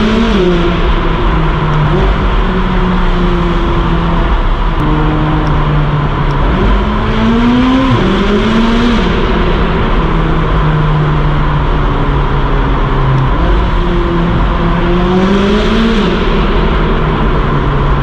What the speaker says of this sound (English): let's get some sound, some tunnel sound of this 570 GT